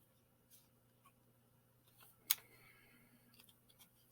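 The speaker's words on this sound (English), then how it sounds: "then when you take your scissors" A single crisp snip of scissors through folded paper, close and quiet, surrounded by faint rustling and a low steady hum.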